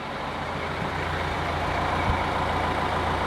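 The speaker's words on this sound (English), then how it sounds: "The tires are rolling." A truck with a faulty tach and speedometer idles while its tires roll and the drivetrain turns, giving a steady, close, low engine rumble and droning hum with no talking.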